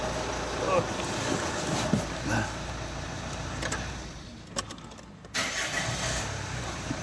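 A rebuilt Opel Vectra C Z19DTH diesel engine with a starting fault cranks laboriously with a steady droning churn, close and fairly loud under wind noise, with brief clicks and a short drop before it picks up again.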